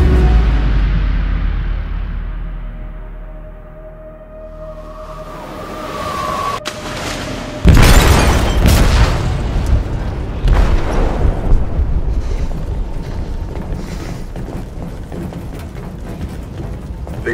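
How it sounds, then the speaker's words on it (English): A massive explosion detonates in a ship's hold in Detroit: Become Human, a loud sudden boom followed by a long roaring, rumbling aftermath with debris and crashing noise that stays heavy to the end. "They detonated an explosive in the hold"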